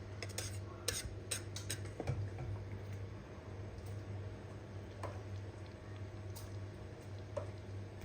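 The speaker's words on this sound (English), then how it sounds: "I'm stirring intermittently." Spoon stirring thick golden turmeric paste in a pot, faint intermittent scraping and light clinks against the pot over a low steady hum, quiet and close.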